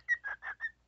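A bird whistles four short, bright notes in quick succession, close by and clear, with nothing else audible around it.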